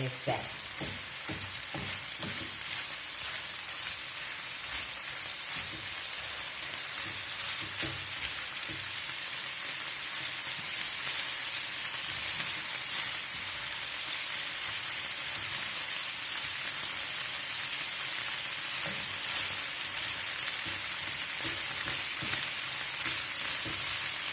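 Beef for goulash fries in a pot while being stirred, a steady dense sizzle with scraping stir strokes near the start and occasional crackles throughout, close and continuous with no talking.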